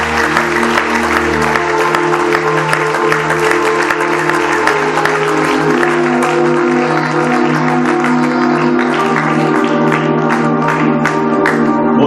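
A church congregation claps continuously for about twelve seconds, a dense loud applause with sustained organ or keyboard tones underneath.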